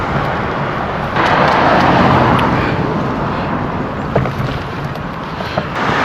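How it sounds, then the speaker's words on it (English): A car passes along a busy suburban residential street, its broadband roadway rush swelling and fading over several seconds, fairly close, with steady traffic noise continuing underneath. "I'm just gonna wait till the car goes by here."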